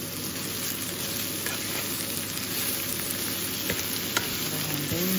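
Bitter gourd stirred with ginger-garlic paste in a frying pan gives a continuous close sizzle, with occasional clicks and scrapes of the spoon against the pan near the end.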